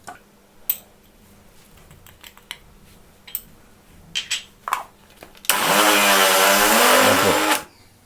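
A blender grinds peanut butter with added sugar in one loud, continuous whirring burst of about two seconds, preceded by scattered light clicks and taps.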